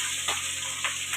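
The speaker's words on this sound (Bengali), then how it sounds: "এখন মাছ ভাজছি।" Pabda fish frying in a pan in a home kitchen, a steady close hiss of sizzling oil with a few brief louder bursts and soft stirring noises, no talking.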